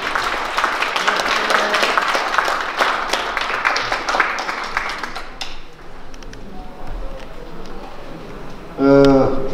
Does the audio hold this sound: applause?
yes